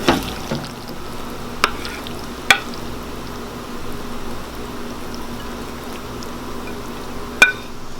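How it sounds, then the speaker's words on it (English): Grilled eggplant and tomatoes being mixed with pistachio cilantro sauce, a steady soft wet squishing and stirring bed with a few sharp clinks of a utensil against the bowl, close and without talk. "So I'm mixing everything well"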